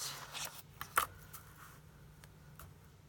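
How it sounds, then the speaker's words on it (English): Scissors cut out a piece of card stock for a handmade card, one sharp close snip followed by fainter rustling and handling. "So I'm going to cut this out."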